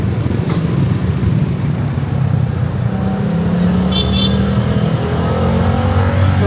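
Loud, continuous city street traffic in Cagayan de Oro, Philippines, with car engines rumbling and vehicles passing close by, a steady dense roar throughout.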